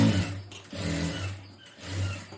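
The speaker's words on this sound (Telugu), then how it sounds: "మళ్ళీ దీనికి ఇంకో కుట్టు వేసుకుందాం." A sewing machine stitches a blouse, its motor humming in steady runs that rise and fall with brief pauses. Close and moderately loud, with no talk.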